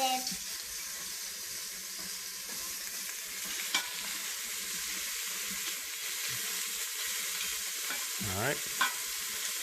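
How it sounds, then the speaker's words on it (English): Vegetables for borscht sauté in an Instant Pot, a steady soft hiss with occasional scrapes of a stirring spoon. Brief talk comes in over the sizzle. "Let it saute a little bit."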